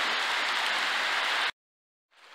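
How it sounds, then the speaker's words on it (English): Rain falling at a road excavation site, a loud, dense hiss of close rainfall that stops abruptly, then after a short silence returns more faintly. "it's still raining"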